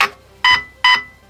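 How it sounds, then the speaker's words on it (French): A GATE Aster V2 airsoft trigger unit sounds short, bright electronic beeps at a steady, evenly spaced rhythm. The beeps are clear and isolated, with quiet gaps between them. "Donc, là, j'ai un bip."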